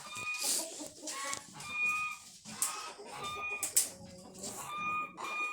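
A flock of chickens snacking clucks and squawks almost nonstop, several birds calling over one another close by in a busy, overlapping chorus.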